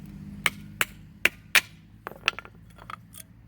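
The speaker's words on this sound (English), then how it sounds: "Let's grab a hammer." Several sharp hammer strikes on metal in an uneven rhythm while removing brake pads from a 2015 Toyota Camry, four loud hits followed by lighter taps, close by.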